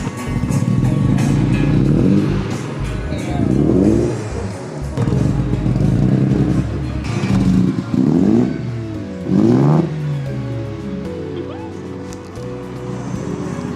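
A Mazda FC RX-7 rotary engine fitted with a new exhaust revs repeatedly, rising and falling in several loud, close blips with a rough idle between them and no talk.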